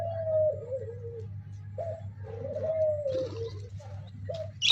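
Pigeons eating from a person's hand coo several times in short, falling phrases separated by brief pauses, close and moderately loud over a steady low hum.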